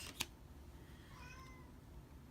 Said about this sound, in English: And I've got a cat freaking out.